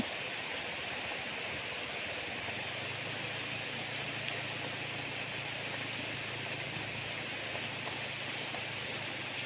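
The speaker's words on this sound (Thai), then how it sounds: "พาวัวหลบฝนฝนตก" Steady rain pouring down outdoors where cattle stand exposed, a dense continuous hiss with a faint low hum beneath, even and unbroken throughout with no voices.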